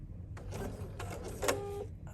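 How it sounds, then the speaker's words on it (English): Sewing machine stitching with white thread at a 3.4 stitch length on a foldable duffle bag, a short close burst of rapid mechanical whirring and clicking, with no voices. "I'm going to get this put in here and start stitching"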